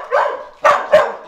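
A dog gives three short barks in quick succession, loud and close, the first a longer yelping call followed by two sharper woofs.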